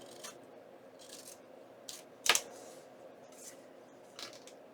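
Scissors trimming paper ephemera for a junk journal, one sharp crisp snip amid faint soft paper rustles and handling sounds, close and quiet with no talk.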